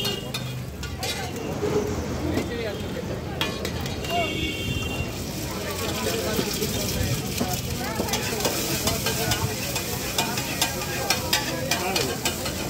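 A street vendor stir-frying egg chicken chow mein, with a steady loud sizzle and constant clattering of the spatula against the pan, close up amid street bustle and background voices.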